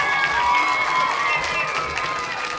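Children and an audience clapping and cheering at a primary schools music day, a loud, continuous burst of mixed clapping and excited young voices throughout.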